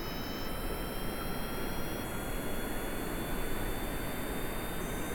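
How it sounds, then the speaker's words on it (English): Jet engines on a craft in Kerbal Space Program roar at full throttle, a steady, dense rushing noise with a faint high whine, constant and alone throughout. "Fire the jets."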